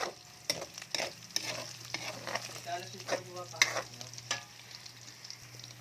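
Three cloves of garlic sautéing in a pan for ginisang upo with ground meat: steady close sizzling with frequent stirring scrapes and clinks of a utensil against the pan, no talk.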